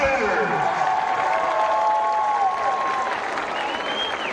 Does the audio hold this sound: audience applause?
yes